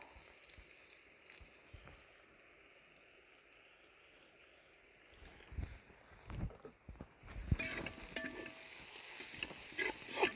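Chopped onions frying in a pan for a pork fry, a soft steady sizzle under quiet scraping and stirring that grows louder and busier toward the end as more goes in.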